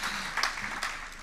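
Brief burst of audience applause at a gender equity technology event, a short, fairly even patter of many hands clapping with a few louder claps standing out.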